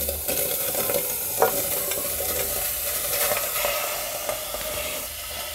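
Chopped vegetables for aviyal stirred into hot oil in a pressure cooker, a steady sizzle with scraping stirs and a few sharp clinks of a spoon against the pot.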